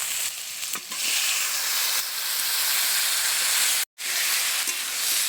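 Thick-cut tomatoes fry in a pan with a loud, continuous broad hiss and sizzle, broken by one very brief silent cut partway through, with no voices.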